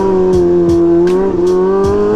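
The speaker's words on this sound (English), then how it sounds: "Wild man doing wheelies through the old abandoned Cabrini Green." A motor vehicle ridden through abandoned Cabrini Green in Chicago while doing wheelies: a loud, close engine holds a steady high drone, with short rhythmic bursts breaking over it.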